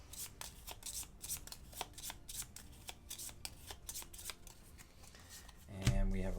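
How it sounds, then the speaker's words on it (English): A deck of cards for the Gloomhaven: Jaws of the Lion board game is shuffled close up with a long run of quick, crisp riffling flicks, then a soft voice and a thump at the end. "We give it a shuffle."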